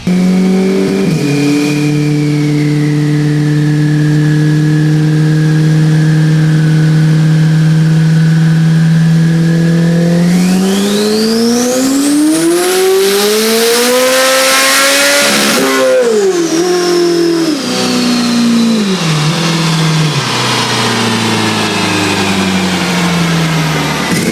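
A Chevrolet Corvette C8 Z06 with Peitz Performance Bravo Plus twin-turbo setup on a dyno, idling loudly before climbing into a long screaming full-throttle pull that peaks and then drops back through lower revs, very loud and close.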